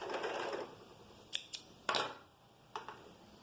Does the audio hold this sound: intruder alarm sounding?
no